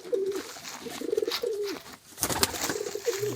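Young pigeon squab calling from a nest, repeated short cooing calls in a steady rhythm, close and moderately loud with brief pauses between them.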